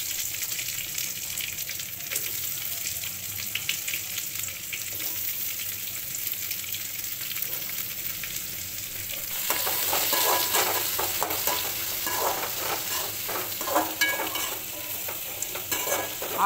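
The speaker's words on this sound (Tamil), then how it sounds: "ஆனியன் நல்லா வதங்கட்டும்" Onions sizzle in a pan with curry leaves and dried red chillies, a steady low hiss that turns brighter and crackling midway as stirring scrapes and taps against the pan continue.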